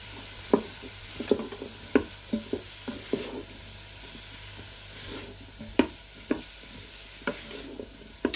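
Garlic cooking in a pot for leek and potato soup, with a steady soft sizzle under repeated sharp spoon-against-pot stirring clicks at close range, and no talking.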